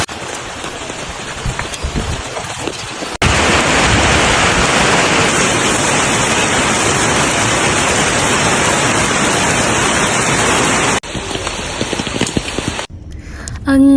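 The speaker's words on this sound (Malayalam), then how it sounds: "മഴ പെയ്തു ഗൈസ്" Heavy rain pours down at a park in Perinthalmanna: a loud, dense, steady hiss that starts abruptly, holds for several seconds, then drops back to a lighter patter.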